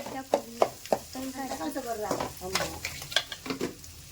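Carrots and other vegetables stir-frying in a pan, with a steady sizzle broken by repeated scraping stirs and clinks of the spatula, while a few faint voices talk in the background.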